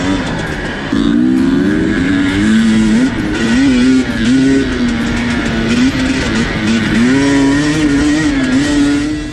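A KTM 250 two-stroke dirt bike engine geared 12/50 revs on a trail, its buzzy note climbing and dropping through gear changes between second and third, steady and close throughout.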